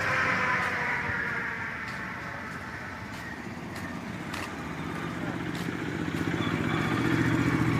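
A motorbike passes by outside, its engine drone rising and falling against a steady rumble of nearby traffic, continuous over several seconds at moderate distance with no voices.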